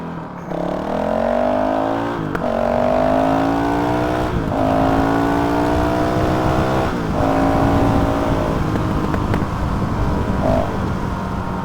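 A Honda 450RL motorcycle with a Graves full titanium exhaust and GET ECU revs hard through several rising gear pulls, each upshift marked by a brief drop, loud and close throughout.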